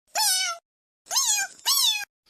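A house cat meows three times indoors, each call clear and close, with short pauses between them and silence around.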